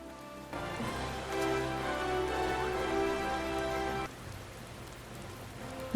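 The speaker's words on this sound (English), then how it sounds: "I'm getting sick of this rain now." Steady rain pours in a Final Fantasy XIV scene, a dense wash of falling drops over a low tonal music bed, louder through the middle, then thinning abruptly near the end.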